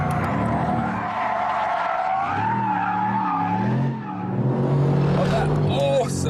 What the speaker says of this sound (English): when I'm power sliding a car through the corners